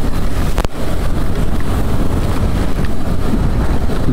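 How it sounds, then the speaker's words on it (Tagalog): Strong wind roars across the microphone of a motorcycle rider on wet roads during a typhoon, a loud, constant broadband rush with buffeting dips. "Malakas ang hangin dito."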